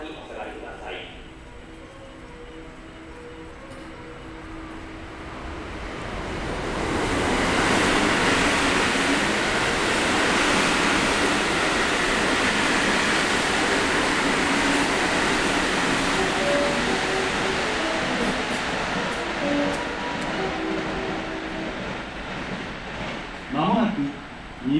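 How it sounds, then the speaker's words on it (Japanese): A train roars through Zeze Station in Japan, rising from quiet to a sustained loud rush that lasts many seconds before fading, with a brief announcement tone beforehand. "電車が通過します。"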